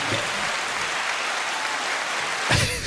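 A crowd bursts into sustained applause, dense and even clapping that fills the whole stretch at steady loudness, with a brief louder swell near the end.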